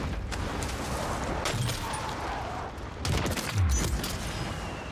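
Rifle gunfire in a shooter video game cracks out in several sharp shots spread across a busy battlefield din, with sudden louder reports punctuating the steady background noise.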